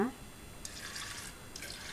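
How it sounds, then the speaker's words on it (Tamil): Water gushes into a metal pressure cooker in two splashy bursts, close and fairly quiet, with a short voice at the very start. "இது மூழ்கிற அளவுக்கு தண்ணி ஊற்றிடுங்க."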